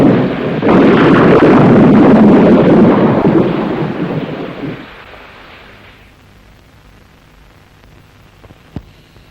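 A thunderstorm with wind and rain: a loud rolling thunder crash swells and lingers for several seconds, then fades into quiet rainfall with a faint sharp crack near the end, no voices.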